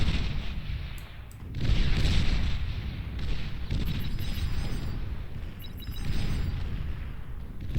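Continuous heavy weapon fire and booming impacts in the real-time strategy game Beyond All Reason, a dense rumbling barrage that stays loud throughout with sharper cracks layered on top and faint high tones, no talk.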